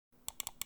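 Five crisp, close clicks from the right button of a Valkyrie M1 Pro lightweight gaming mouse, pressed in a loose uneven rhythm with no voice over them.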